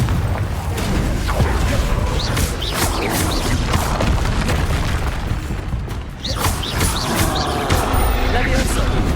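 Repeated Confringo explosive spell blasts in Hogwarts Legacy, loud booming impacts over a constant heavy rumble of combat, with a voice speaking over the action.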